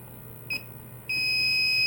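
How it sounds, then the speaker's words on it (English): A Hoshizaki ice machine sounds a high electronic beep: one short blip, then a steady unbroken tone that holds on, over a low mechanical hum. "See, it's pretty steady beeping."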